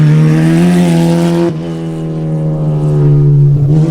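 A loud, steady high-revving V8 engine roar dominates throughout, with a brief dip in pitch partway as it shifts, as a Formula Continental race car passes close by at a racetrack.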